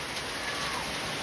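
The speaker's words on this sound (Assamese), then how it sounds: "বৰষুণ আহি আছে পানী বাঢ়ি আছে" Heavy rain pours down steadily in a dense, even hiss over a rural home with a verandah, close and continuous with no voices.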